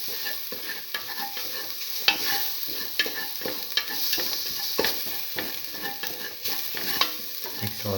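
Garlic and mung beans sizzle in a hot pan while a utensil stirs them in repeated scraping strokes, close and fairly loud, with occasional sharper clinks, no talking.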